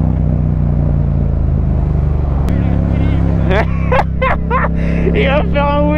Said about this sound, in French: Il va faire un wheeling, Kibouji.